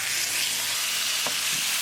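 Mahi mahi fish pieces dropped into a hot tadka of spices, a loud dense sizzle of frying that holds steady throughout, with a small clink partway.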